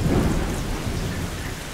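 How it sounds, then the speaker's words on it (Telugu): Sudden thunder with heavy rain, a storm sound effect in a horror story: a loud, close rumble and steady downpour fill the whole stretch with no voices. "ఉన్నట్టుండి ఉరుములు మేఘాలు లేకుండా పెద్ద వర్షం."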